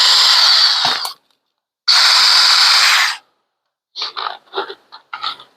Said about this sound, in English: drill some